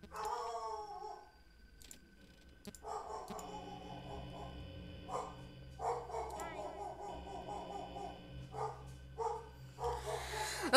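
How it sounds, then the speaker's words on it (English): A dog barks a few times in the background of a room, faint and intermittent beneath a person talking over game sounds. "My dog is barking."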